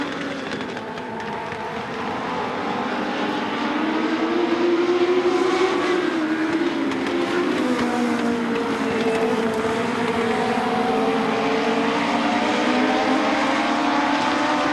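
A pack of short track race cars with 1200 cc Yamaha FZ09 engines roars past loudly, the engine notes rising and falling in overlapping sustained howls without pause.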